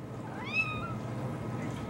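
A single rising-then-falling meow from a cat on a kitchen counter, short and fairly clear over a low room hum.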